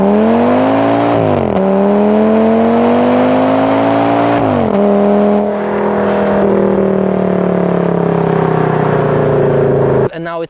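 A V10 car engine fitted with a Maxton Design spoiler kit revs loudly and close, rising and dropping in pitch through several sweeping throttle blips before one long sustained climb that cuts off abruptly at the end.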